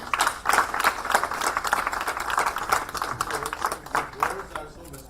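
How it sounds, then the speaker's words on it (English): An audience at an industry awards night claps through a busy hall for about five seconds, uneven applause of moderate loudness mixed with voices speaking over it. "Huge round of applause, everyone."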